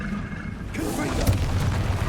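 A Confringo fire-blast spell from Hogwarts Legacy erupts with a dull boom after a quiet start, followed by a crackling, rumbling burst that lingers to the end at moderate loudness.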